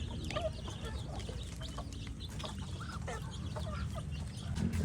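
Ducks quacking and clucking in a flock as they are caught, with flapping and scuffling, close by amid low background noise.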